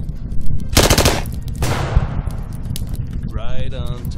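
A burst of gunfire in the tactics game Achtung! Cthulhu Tactics, a loud rapid rattle of shots followed by a second sharp report that trails off. A voice speaks briefly afterward.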